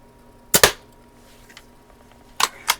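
A Daisy 299 BB gun fires outdoors, two sharp close shots spaced about two seconds apart, followed by a third crack shortly after, each a brief snap against quiet background.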